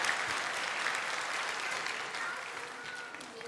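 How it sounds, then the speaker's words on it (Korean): A church congregation applauds as an evangelist leaves the stage during an all-generations worship service, a brief, steady spread of many hands clapping at moderate volume. "자, 우리 전도사님 나갈 때 박수로"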